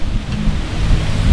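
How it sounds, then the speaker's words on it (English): Blustery wind buffets the microphone outdoors on a cold day beside an International DT466 diesel truck, a steady low rumble and gusting roar filling the short stretch without any talk. "So it's windy,"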